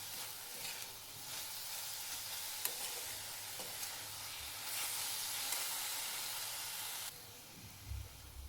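Grated fresh coconut filling for appe cooks in a pan with a soft, steady sizzle and hiss, with faint stirring scrapes and occasional light clicks, fairly quiet and without any talking.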